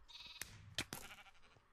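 Sheep bleating in a video game: a few short, bright bleats with scattered game noise between them, fairly quiet and with no talking.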